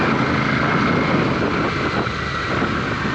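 A Royal Enfield Super Meteor 650 motorcycle with its exhaust mesh removed, pulling hard after a downshift. A loud, steady exhaust and engine roar runs unbroken throughout, heavily buffeted by wind.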